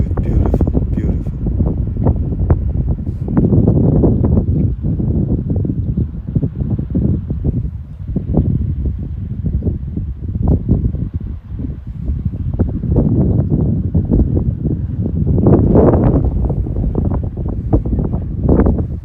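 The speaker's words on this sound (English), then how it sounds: "Very windy." Strong gusting wind buffets the microphone throughout, a loud, continuous roar that rises and falls in surges, on the coast at Berry Head Fort, Brixham, Devon.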